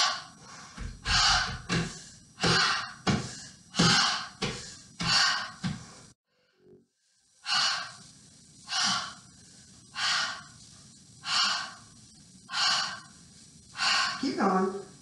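Forceful exhaling breaths during a yoga exercise, a regular series of loud, sharp puffs about once per second with a brief pause midway, close and alone.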